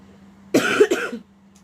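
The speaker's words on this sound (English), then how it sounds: "Sorry about the coughing." A single short burst of coughing, two quick harsh hacks close to the microphone, against a quiet background hum.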